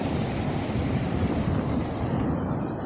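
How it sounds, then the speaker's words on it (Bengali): Sea waves roll in at Cox's Bazar beach near sunset, with a constant loud rush of surf and wind buffeting the microphone and no break in the roar. "এ উঁচু নিচু ঢেউ।"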